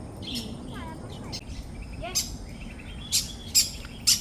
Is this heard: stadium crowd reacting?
no